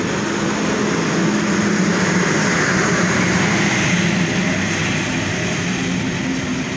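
The Chilahati Express passenger train pulls out of a station in Bangladesh with a broad, steady rumble and roar that stays loud and even throughout, and no voices can be heard.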